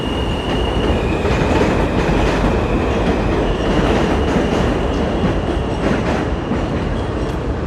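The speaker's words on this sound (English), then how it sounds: "Sounds like the train is stopping." A New York City train slows toward a stop in a loud, constant rumble of wheels and cars, with faint squealing and clicking running throughout.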